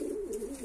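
A domestic pigeon coos softly in a loft in Tbilisi, Georgia, a brief low warbling call heard close up over faint background hiss.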